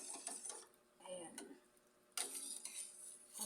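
A spoon scrapes and clinks against a pot of corn soup in short bursts, with pauses between strokes, close and fairly quiet.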